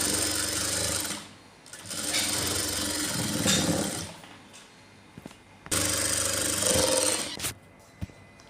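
A sewing machine stitches a blouse seam with a double stitch, running in two loud, steady, rapid mechanical bursts separated by a quiet pause with small clicks, close and with no talking.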